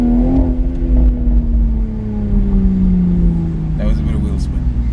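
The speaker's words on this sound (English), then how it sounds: "That was a bit of wheel spin." A 2019 BMW Z4 M40i spins its wheels under hard acceleration around Cape Town, the engine note droning steadily and slowly falling in pitch, loud and close from inside, with a brief scuff near the end.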